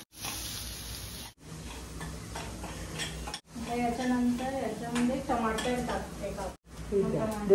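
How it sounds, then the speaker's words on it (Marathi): Spices and onions being sautéed together in a pan for palak paneer, with steady sizzling and stirring scrapes broken by brief pauses, while a person talks over much of it. "सर्व मसाले कांद्यामध्ये एकत्र परतून घ्यायचे"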